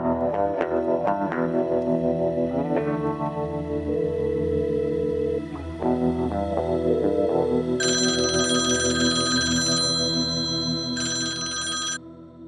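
A telephone rings repeatedly over a layer of music. A brighter electronic trill joins toward the end, and no voices are heard.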